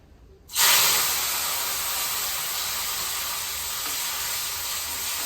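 Soaked chillies drop into hot oil and erupt in a loud, steady sizzle that holds close and unbroken for several seconds, with bubbling hiss and no voices.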